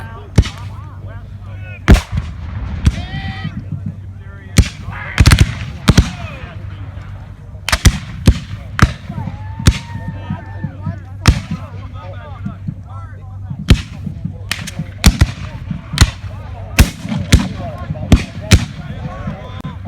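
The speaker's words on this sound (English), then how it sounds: "The rebel cannons and mortars fire back." Repeated booming Civil War re-enactment cannon and mortar blasts at irregular intervals, some near and loud, others more distant, with a voice talking underneath.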